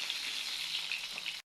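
Pointed gourd (potol) frying in hot oil in a pan, giving a steady, close, bright sizzle that holds evenly before cutting off abruptly.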